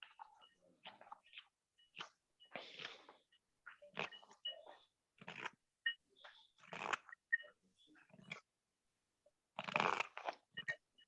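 A knife carves a green walnut wood spoon with short, crisp crunching strokes, each cut a separate close, quiet burst separated by silence.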